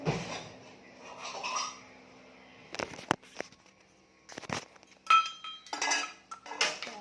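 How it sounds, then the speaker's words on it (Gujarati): A small bowl rattles and clinks against a plate, with scattered metal-on-ceramic chinks and short shaking bursts separated by quiet gaps, close and with no talk. "વાટકી હોય તો વાટકી થોડી હલાવી દેવાની મસ્ત."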